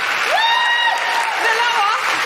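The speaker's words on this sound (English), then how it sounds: "Could I have a huge round of applause for Marianna?" Audience applause at a live podcast recording breaks out as a broad, steady wash of clapping that lasts about two seconds, while a host's voice talks over it.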